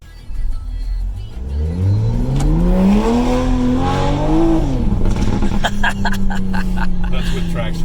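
A 2020 Toyota Supra with a new downpipe accelerates hard with traction control on, its engine note rising steadily through a gear before shifting down to a steady drone, with voices talking over it.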